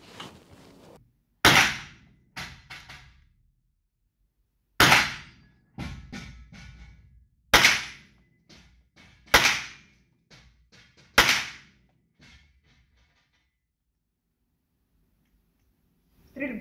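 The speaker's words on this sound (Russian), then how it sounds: "А теперь постреляем по коллиматорному прицелу." Gunshots ring out one by one at an indoor shooting range while a shooter fires with a Vzor-4 collimator sight. About six sharp, loud cracks come roughly every two seconds, each trailing a short echo, with quieter clicks and handling noises in between.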